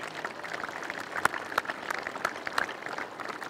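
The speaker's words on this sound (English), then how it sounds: "I'd just like to have a big round of applause for our local volunteers" An audience at the 2021 U18 Australian Championships hockey men's gold medal match applauds its local volunteers with steady, moderately distant clapping and a few sharper individual claps.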